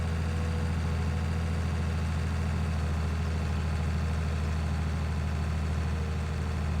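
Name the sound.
tractor engine running in a farming video game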